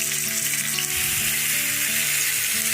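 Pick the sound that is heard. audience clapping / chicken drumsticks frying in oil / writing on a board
chicken drumsticks frying in oil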